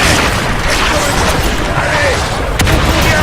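Heavy, continuous gunfire and booming blasts from the Evolve hunter-versus-monster game fill the clip, loud and dense without a break, with muffled voices faintly underneath.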